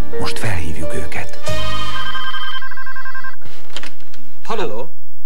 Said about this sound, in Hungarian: ha csörög a telefon